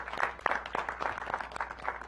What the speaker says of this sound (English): So a round of applause for Dan.